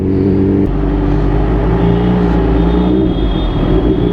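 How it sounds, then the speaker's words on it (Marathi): A car passing very close to a motorcycle, a Kawasaki Ninja H2, on a night road, with loud continuous engine drone and road rumble filling the whole stretch, near and steady, with no talking. "अरे कारवाला बघा काय क्लोज चाललाय."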